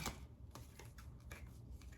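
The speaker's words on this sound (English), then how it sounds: "I'll shuffle them already." A deck of tarot cards is shuffled by hand, making a quiet run of soft, irregular papery clicks and slaps close by, with no speech.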